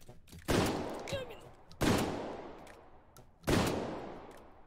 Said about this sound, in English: he's going to be using the sporting shotgun for this